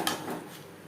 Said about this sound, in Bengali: ধুনুলের সাথে মাছ বেশ ভালো করে মিক্স করে দেব।